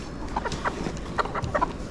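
Several chickens cluck and murmur close by in a soft, irregular chatter, with no talking.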